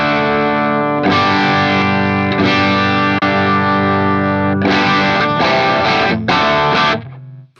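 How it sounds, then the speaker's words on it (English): Electric guitar through a Nux Cerberus multi-effects pedal set to an overdriven rhythm tone, sustained strummed chords ringing loud and alone, with a few quick restrikes before the final chord is cut off. "So let's set up a good drive sound first."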